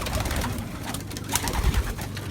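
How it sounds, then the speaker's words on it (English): Pigeons cooing, a steady soft chorus of low, throaty bird calls close by, with faint background noise. "That's the birds."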